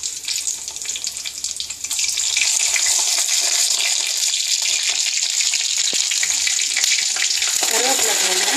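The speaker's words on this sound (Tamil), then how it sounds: "இப்போ எண்ணெய் காஞ்சிருச்சு, கறி வடகம் போடுறேன்." Homemade kari vadagam drops into hot oil and the sizzle jumps from a gentle fry to a loud, steady crackle, with stirring at the end as the brinjal gravy gets started.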